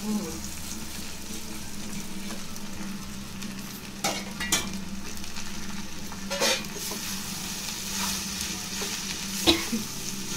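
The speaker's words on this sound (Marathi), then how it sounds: "सगळं एकत्र करायचं आणि फोडणीला द्यायचं आणि ढवळायचं" Steady sizzling of poha frying in a spiced oil tempering in a pan, with occasional scrapes and knocks of a spoon stirring, close and continuous throughout.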